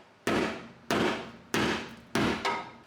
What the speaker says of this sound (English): Let me go ahead and give this a couple more whacks here on the bottom.